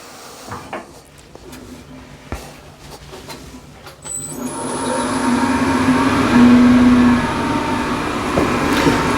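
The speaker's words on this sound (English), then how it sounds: "LATHE is running at 1600 RPM." A wood lathe spins a yew blank at 1600 RPM. It starts up about four seconds in and then holds a steady, fairly loud hum with a tonal whine that rises briefly. Scattered knocks and handling sounds come before it.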